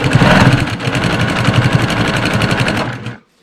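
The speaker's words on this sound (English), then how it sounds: "I'm just going to sew right on that diagonal line, that crease that I pressed with the iron." Sewing machine stitching quilt squares along a pressed diagonal line runs in a fast, steady mechanical chatter, close and loud, then stops abruptly near the end before briefly starting again.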